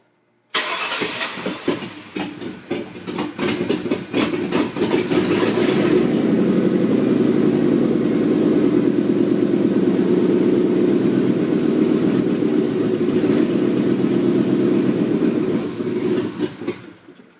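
A 1997 Ford Mustang GT cranks for several seconds with a whirring starter, then catches and settles into a loud, steady idle that runs on close to the mic until it cuts off near the end.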